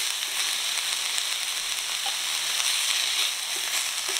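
Peppers sauté in a pan with a constant, even crackling sizzle, bright and close, with no voices and no other sounds over it.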